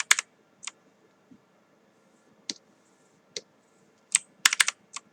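Several sharp keyboard key presses during a Photoshop Alt+Delete fill shortcut, sounding as isolated clicks with a tight burst of taps near the end and quiet gaps between them.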